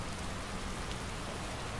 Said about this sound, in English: Although I'm really unamused with the fact that it is raining on a snowy mountaintop.